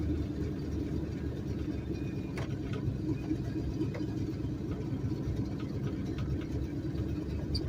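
A car engine runs with a slight chug while driving slowly around a block on a slippery hill, a faint, steady low rumble with no talking.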